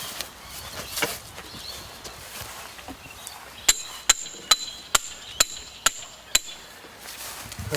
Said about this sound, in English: with these stakes with the shank directly over the head, they just hammer in really well.